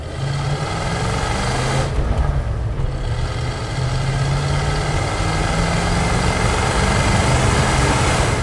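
A 1987 Ford F150 4x4 pickup with a 5.0 V8 and four-speed manual runs under load on a test drive, giving a steady loud low engine drone with road and cabin rumble and a brief dip in noise partway.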